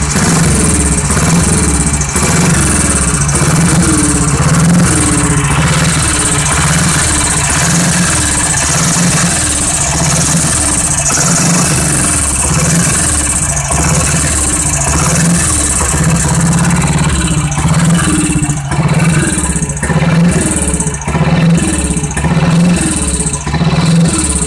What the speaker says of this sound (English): give it a good kick. If you're lucky, it'll start.